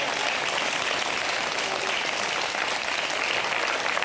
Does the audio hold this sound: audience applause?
yes